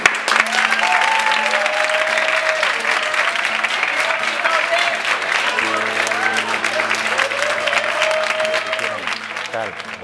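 Classroom or hall audience applauds teacher Paco for his innovative, motivating teaching, a loud, sustained burst of clapping lasting about ten seconds, with a few tonal sounds running beneath it.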